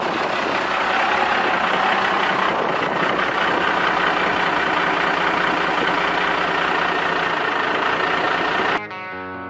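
A 1997 Dodge pickup with a Cummins diesel and double-stack exhaust idles loudly and steadily after a cold startup, with a heavy, even rumble that holds for about nine seconds before cutting off abruptly.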